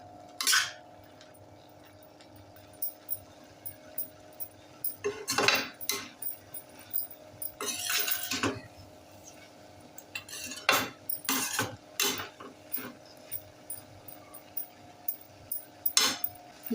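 A metal spatula scrapes and clinks against a pan while prawn fried rice is stir-fried over a gas flame, irregular clanks and scrapes over a low steady hiss, with no talking.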